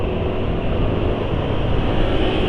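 A Honda Vario scooter engine, filled with Repsol MXR3 oil, runs at a steady idle. It gives a continuous, slightly rough hum with no change in pitch or loudness throughout.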